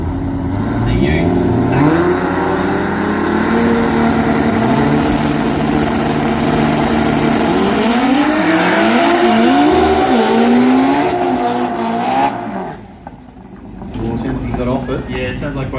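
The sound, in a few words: race cars accelerating in drag racing qualifying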